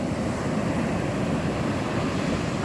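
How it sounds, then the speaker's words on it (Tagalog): Strong ocean waves break continuously at a shoreline fishing spot, a loud, steady wash of surf with wind noise and no speech. "Ang lakas ng alon, no?"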